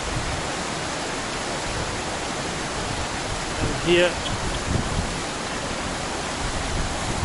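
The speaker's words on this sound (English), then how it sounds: "I climbed up this hill to get a closer video of the waterfall" Ushu Waterfall in Kalam, Swat, Pakistan pours with a constant, loud broadband roar of rushing water, heard from a hillside close by. Someone speaks briefly over it.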